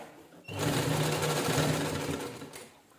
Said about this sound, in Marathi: फक्त देताना शिलाई नॉर्मल व्यवस्थित एकसारखी देऊन घ्यायची.